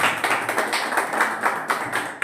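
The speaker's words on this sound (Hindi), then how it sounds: "थैंक यू, ताली बजा दीजिए इनके लिए।" A small audience in a class claps together for someone, a brisk irregular patter of individual hand claps, close and moderately loud, continuing steadily without voices.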